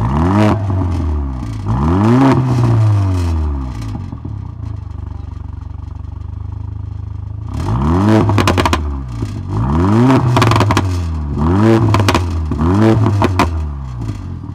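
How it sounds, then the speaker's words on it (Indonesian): Mercedes CLA 45 AMG engine revved twice through its exhaust, first in normal mode then in sport mode: two bursts of rising and falling revs with crackles, a quieter idle between them, loud and close. "Saya akan gas pertama kali mode biasa, kemudian gas yang kedua kali itu dengan mode sport."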